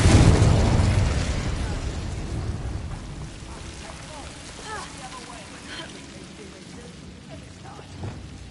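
Confringo explosive spell going off in the video game Hogwarts Legacy: a loud blast at the start that rumbles and slowly fades over several seconds into quieter game ambience.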